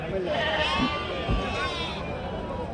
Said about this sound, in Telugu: 12 పొట్టేలు పిల్లలు ఉన్నాయి.